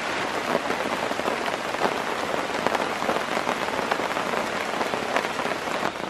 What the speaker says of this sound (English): We need to wait a little bit for the rain to stop a little bit.